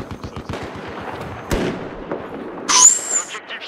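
Gunfire in Battlefield 4, a rapid string of shots rattling close by, then a sharp, louder crack of a sniper rifle, followed by a brief high-pitched burst.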